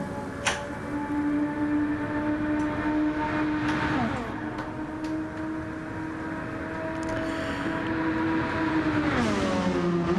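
Race car engines in a racing video game at the Sarthe circuit, a steady sustained engine drone with a held pitch that dips and climbs again near the end, with a short sharp knock early on.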